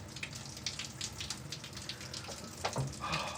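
Cold shower water running steadily, a continuous broad hiss of spray with small splashy fluctuations throughout, fairly close and alone with no talking.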